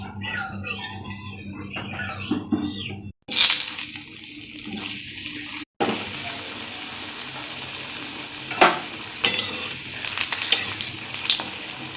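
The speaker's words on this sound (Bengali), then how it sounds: "তারপরে ওই তেলে একটু সাদা জিরে আর পেঁয়াজ দিয়ে দিলাম" Cumin seeds and onion fry in oil after potatoes were fried in it, giving a loud, close sizzle with splashy, watery bursts and stirring, broken by two brief cuts, with no talking.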